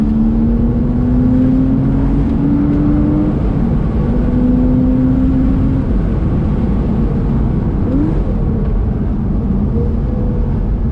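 A Porsche 987.2 Cayman S or Boxster S engine with manual gearbox drones loudly from inside the cabin, its pitch climbing in long pulls, with a quick heel-toe rev blip during a downshift.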